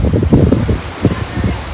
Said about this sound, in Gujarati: પવન બહુ જ ચાલે છે